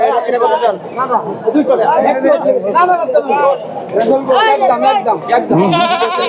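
Goats bleat repeatedly, close and loud, at a crowded Qurbani livestock market, their wavering cries rising over the busy chatter of buyers and sellers.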